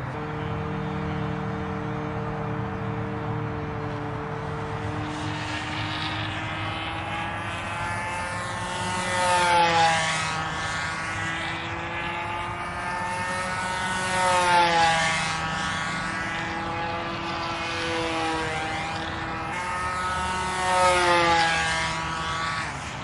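Small glow-type engine of a McLaren Pathfinder control line model plane on a test flight, a steady buzzing drone that swells louder three times as the plane circles past, with no talking.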